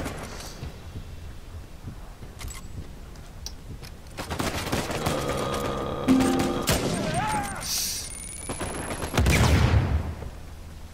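Gunfire in the Uncharted 4: A Thief's End video game, bursts of rapid shots and booms that build in the middle and grow louder toward the end, with a person talking over it.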